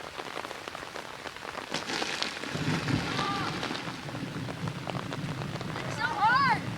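Rain falls steadily outdoors on a rainy day, making a continuous hissing patter with some heavier bursts and a brief voice near the end.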